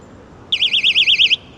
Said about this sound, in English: personal alarm right here.